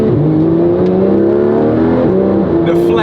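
Inside a Porsche 911 GT3 RS on back roads, the flat-six just behind the seats drones loudly and climbs in pitch through the gears, with a brief shift dip near the end and a voice speaking over it.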